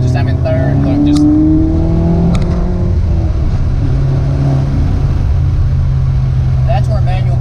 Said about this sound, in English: just driving on a back road. Just I'm in third